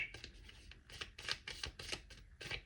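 Close, quiet shuffling of a tarot deck, with repeated papery flicks and rustles in an uneven rhythm.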